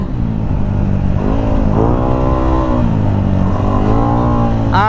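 A Yamaha Aerox V2 scooter with a built 215cc engine revs loudly, climbing and dropping in pitch through repeated throttle blips, close to the listener.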